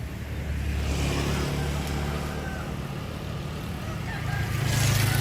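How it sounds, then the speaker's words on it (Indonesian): Truck engine rumbling as it arrives at an outdoor wedding gathering, a low steady idle that swells louder near the end, with people talking in the background. "ini truk sudah ada"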